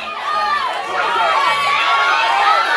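A crowd cheers and shouts at a bun and cheese eating contest, a dense, steady mass of excited voices with high whoops and yells rising over one another, fairly loud and continuous.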